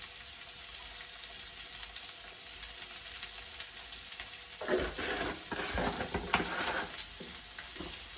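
Sliced onions sizzle and fry in a pan with a pinch of salt, a steady close hiss that grows busier midway as they are stirred and tossed.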